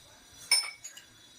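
A spoon clinks against a bowl while turmeric powder is stirred into water for drumstick leaves rasam, a single bright metallic tap followed by a couple of softer knocks, close and brief with no talking.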